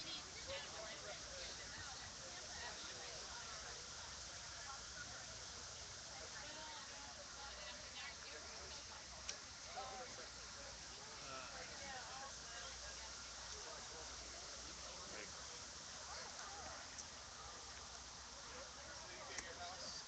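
Steady rain falls outdoors at a street protest in Orlando, a dense, even hiss of drops on surfaces filling the whole stretch at low level, with faint crowd noise mixed in.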